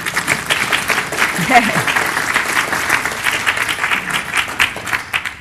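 An audience claps steadily throughout, the applause sustained and moderately loud, while a voice speaks briefly over it.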